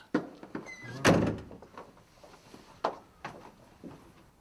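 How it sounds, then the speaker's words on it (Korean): A door being opened to a visitor indoors, with a sharp thunk near the middle followed by a few softer knocks and clatters, fairly close, with no speech. "김대성의 목소리에 별 생각 없이 문을 열어준 김나경."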